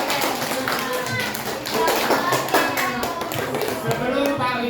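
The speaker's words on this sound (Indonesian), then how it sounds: "tepuk tangan untuk kita semua" A class group claps steadily for several seconds at the end of a lesson, the claps dense and close, with voices mixed in underneath.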